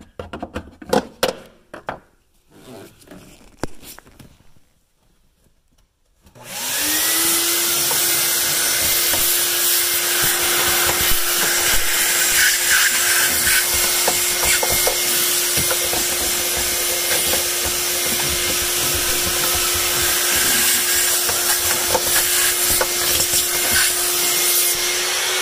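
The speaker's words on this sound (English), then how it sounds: "I'm gonna vacuum everything" After a few seconds of clattering and bumping, a vacuum cleaner switches on and runs with a loud, steady whine and roar for the rest.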